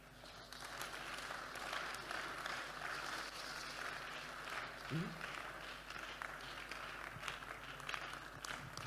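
Steady applause from a church congregation during a sermon, a dense wash of clapping that runs for several seconds with a voice or two faintly underneath.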